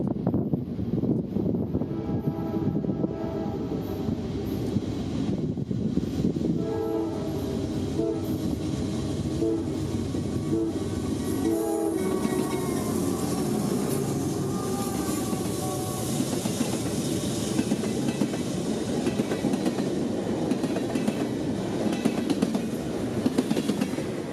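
Freight locomotives pulling a short train uphill in central Georgia rumble past with heavy engine drone and rolling wheel noise, a horn sounding midway, the roar swelling as the train goes by.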